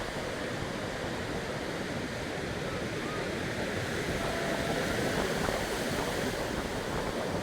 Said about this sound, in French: Regardez comme la mer est déchaînée.